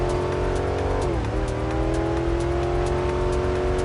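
Video game car engine drones loudly at a steady pitch, dipping briefly as it shifts, with a faint tire squeal and rhythmic ticking clicks over the continuous engine tone.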